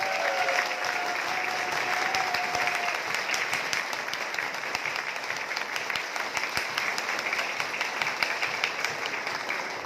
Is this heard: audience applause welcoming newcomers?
yes